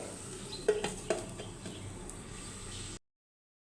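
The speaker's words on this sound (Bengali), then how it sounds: "মাছের মাথাটা দিয়ে দিলাম, দিয়ে এটাকে আমি কষিয়ে নিব" Fish head sautéing in a pan, a faint steady sizzle with a few sharp utensil clinks and stirring scrapes before it cuts to silence.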